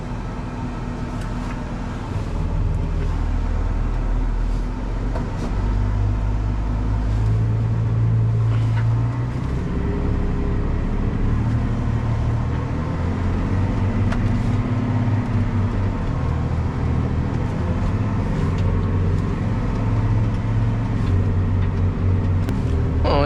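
A tractor pulls a tube roller slowly across a field at about 11 km/h, working manure into the soil and breaking down a cover crop; its engine rumbles low, steady and close for the whole stretch.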